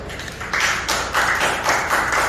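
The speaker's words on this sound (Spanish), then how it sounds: "Denle un aplauso al Señor." A Spanish-speaking church congregation claps in praise to the Lord: dense, loud applause that swells in pulsing waves, filling the room without voices over it.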